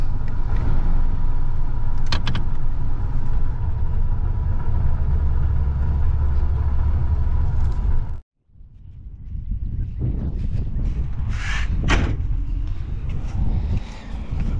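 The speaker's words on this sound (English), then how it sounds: "Gotta pump the throttle up on it a little bit, you know." A vehicle engine idles loudly and surges as the throttle is pumped, a steady low rumble that cuts out briefly mid-way, then restarts and revs again, close by in a barn.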